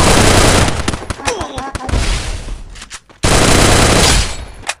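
Rapid bursts of automatic gunfire from a mobile shooting game ring out loud and close, with sharp repeated shots, a brief pause and then another sustained volley; a voice briefly sounds amid the firing.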